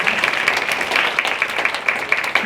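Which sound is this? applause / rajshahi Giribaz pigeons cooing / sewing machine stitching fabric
applause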